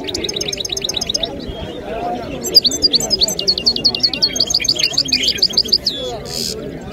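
Many caged birds chirp and tweet at a busy open-air bird market in Casablanca, rapid repeated high calls close by, with pigeons cooing softly and a low murmur of crowd voices beneath.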